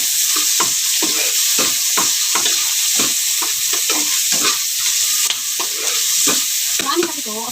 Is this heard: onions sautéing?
yes